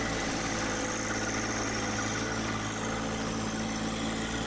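A John Deere 1025R compact tractor engine running steadily at close range, a constant loud drone with no break or change in pitch.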